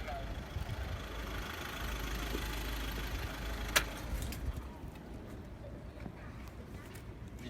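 A van engine idles on a street in central London, Westminster, giving a steady low rumble throughout with one brief sharp click partway through, and faint voices in the background.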